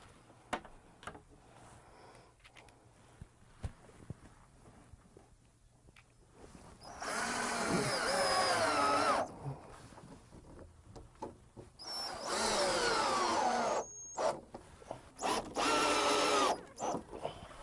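A power drill drives screws through the three-hole mounting straps of a Mega Dry unit, with two or three loud whirring bursts of several seconds each separated by quieter pauses and faint clicks.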